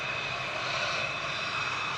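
A Ryanair airliner's engines at Manchester Airport give a steady, broad roar with a faint whine as the plane starts rolling, heard from a distance and constant throughout.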